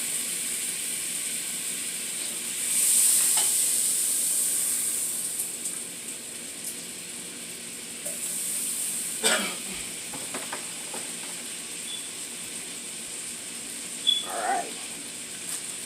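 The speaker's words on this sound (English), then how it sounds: "Okay, so I got that butter melting over there" Butter melting in a pan for French toast gives a steady, fairly quiet sizzle and hiss, with a few faint clicks and scrapes from the stove or utensils.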